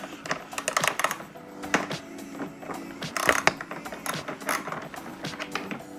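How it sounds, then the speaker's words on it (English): A 9/16 wrench works loose a stock mirror on a CVO Street Glide motorcycle, giving close, rapid, irregular metallic clicks and ratcheting ticks with no voices. "now we take the 9/16 wrench"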